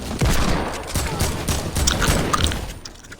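Desert Eagle shots in Fortnite, a burst of loud, sharp gunfire reports in quick succession with a few mechanical clicks, fading toward the end.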